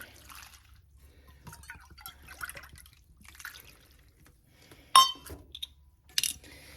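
Water pours and dribbles into a bowl of oats and milk in short bursts, with a few sharp clinks near the end, against a quiet low hum.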